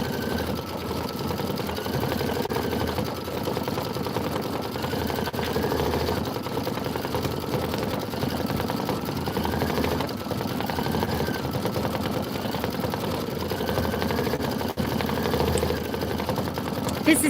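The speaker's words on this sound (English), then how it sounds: "This is 6 minutes of stitching." A Janome Memory Craft 15000 machine stitches a Kimberbell Let It Snow pillow design, a soft, steady whirring hum with faint repeating pulses that runs without pause throughout.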